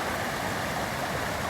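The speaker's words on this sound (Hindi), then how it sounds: "देखो छोटे छोटे वाटरफॉल, झरने टाइप की, ऊपर बिल्कुल सूखा, नीचे से आ रहा जमीन से" Small waterfalls of spring water seep from the ground of a mountain and make a continuous rushing, gurgling wash, close and steady, with no voices.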